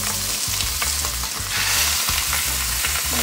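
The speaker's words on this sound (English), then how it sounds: "I'm just gonna throw these skin side down" Chicken breasts laid skin side down in a smoking hot pan give a loud, dense, steady sizzle and spatter, close up with low thumps from the pan and no voices.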